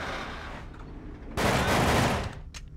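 A loud burst of rapid gunfire erupts midway through a quieter passage of Hitman: Contracts gameplay, a dense volley lasting about a second before tapering off, followed by a brief later crack.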